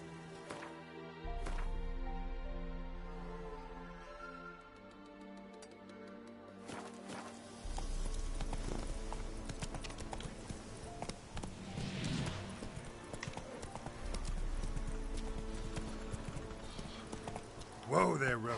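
The horse Roach walks with hooves clip-clopping in a steady rhythm, close and clear over a musical backdrop, pausing briefly before resuming, with a faint voice at times.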